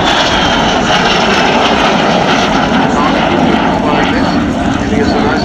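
A de Havilland Vampire jet fighter roars steadily and loudly overhead during an air display, a broad, continuous engine rush with a high whine on top, heard throughout.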